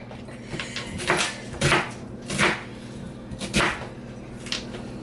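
Several sharp, irregular chopping thuds of a knife roughly chopping vegetables on a board, close by, spaced unevenly over a low background hum.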